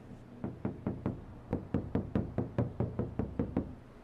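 Knuckles rap steadily on the door of a Wuling Air EV car that has no sound damping fitted yet: about sixteen hollow knocks in a regular, close rhythm with a short pause partway through.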